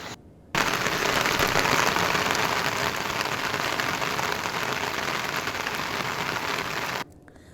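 Heavy monsoon rain pours steadily in Nashik, a dense close hiss of drops on surfaces that starts abruptly and stops just as suddenly, with no voices.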